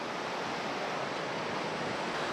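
Water from a river pours into the Haripura dam reservoir, a steady, dense roar of falling water that holds unbroken and loud throughout with no voices over it.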